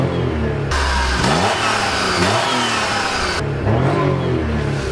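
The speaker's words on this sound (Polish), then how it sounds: "Posłuchajcie tylko brzmienia tej trzycylindrowej jednostki." A Daewoo Matiz three-cylinder engine fires up close by and revs repeatedly, the pitch climbing and dropping in several loud surges over a constant engine drone, with no talking.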